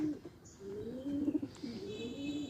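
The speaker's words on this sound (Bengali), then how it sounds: "এটা মাদি কবুতর।" A female pigeon coos in low rolling phrases, close and clear, repeated several times over a soft background hiss, with faint chirps of other birds nearby.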